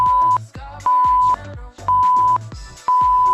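A Tabata workout interval timer gives four loud, long electronic beeps in a steady rhythm, each lasting about half a second, separated by short gaps.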